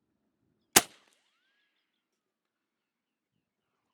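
A single shot from an Airforce Escape .25 caliber air rifle fired across a chronograph, one sharp close crack with a short decay, followed by quiet.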